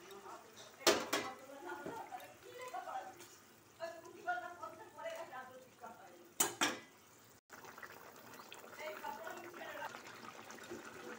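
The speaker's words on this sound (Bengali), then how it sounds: "ঝোলটা ফুটে গেছে, ভাজা মাছগুলো তুলে দিচ্ছি।" Fried fish goes into a pan of boiling curry, giving sharp splashes and clinks over a steady bubbling simmer, with a person talking throughout.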